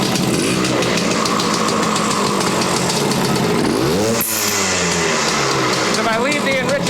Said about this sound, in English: I don't know if I'm gonna be able to get it to idle like this